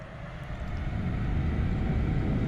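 A fighter jet engine roaring on afterburner in the aircraft-building game Aviassembly, a steady, dense low rumble that swells slightly and holds without a break, no voices.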